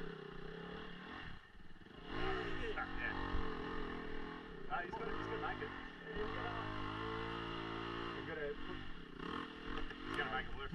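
A dirt bike engine at the Lang Lang dirt bike tracks revs repeatedly, rising and falling in pitch as the throttle is worked, loud and continuous.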